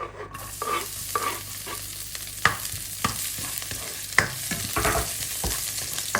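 Garlic sizzles in an oiled pan while being cooked for spicy garlic seafood, a continuous frying hiss broken by sharp clicks and scrapes of a utensil stirring against the pan.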